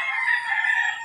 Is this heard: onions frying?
no